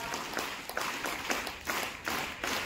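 A school audience claps at a felicitation ceremony, steady crowd applause with sharper individual claps popping through at a roughly regular rhythm.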